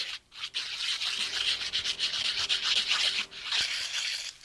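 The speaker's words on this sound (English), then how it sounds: "the sandpaper will give you a real fine point, and it'll just stick on your nail" Fishing hook being sharpened by rubbing it against sandpaper, giving a steady close-up scraping rasp in repeated strokes with short pauses, no voices.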